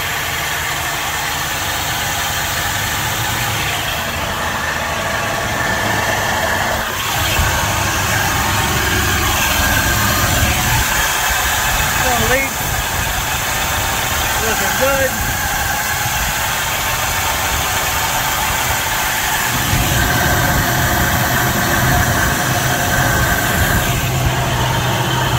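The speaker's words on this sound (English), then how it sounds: "did you guys hear how healthy this thing cranks? How even the crank is?" Car engine idling steadily after being cranked, loud and close with a continuous low rumble and faint ticking, holding even for the full length with no talk.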